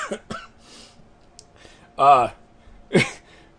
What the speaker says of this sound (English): I'm coughing because, of course, long strenuous talking on my vocal cords is making me cough.